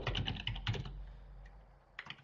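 Keystrokes on a computer keyboard tapped in quick bursts at the start, a short pause, then a few more clicks near the end, close and moderately quiet with no voices.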